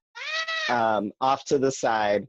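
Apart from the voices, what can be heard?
pet cat meowing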